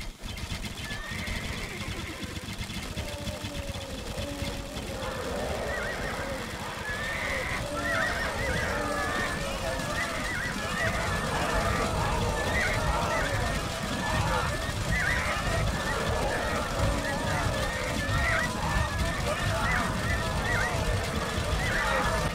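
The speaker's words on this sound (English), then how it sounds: "Finally Lodi gave the order to attack sending his elephants and cavalry against Babur's positions." Horses neigh and whinny repeatedly over a dense, continuous din of hooves and crowd noise, loud and sustained throughout like a large charging mass, as cavalry and elephants charge in Age of Empires 2.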